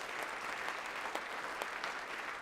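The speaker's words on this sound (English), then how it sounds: "So please give yourselves a round of applause for that." An audience claps together in sustained, dense applause at a moderate distance, even and unbroken from start to finish with a few sharper individual claps poking through.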